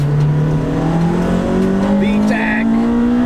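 Acura RSX DC5 engine revving hard toward VTEC, its tone rising smoothly and steadily in pitch as it climbs; loud and close, heard from inside the car with no talking.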